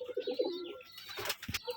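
Rajshahi Giribaz pigeons coo in a few soft, low, rolling bursts close by, followed by brief rustling and scuffling noises.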